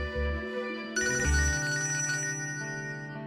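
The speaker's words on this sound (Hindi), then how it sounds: "फरद को फोन करके बताती हूँ।" A telephone ringtone plays a bright electronic melody, close and steady, with several rising tonal phrases and no voices.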